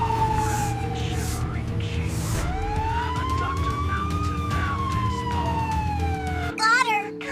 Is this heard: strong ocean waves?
no